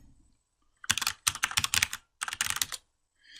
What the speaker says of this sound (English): Still can't see what I'm typing